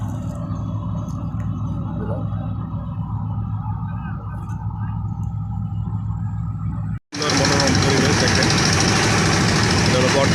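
A boat engine on a river at the Tongi river port in Dhaka hums steadily and low for several seconds. After a brief dropout, a much louder, harsher roar of broadband engine and water noise takes over.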